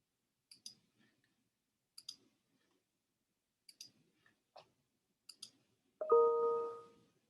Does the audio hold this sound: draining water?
no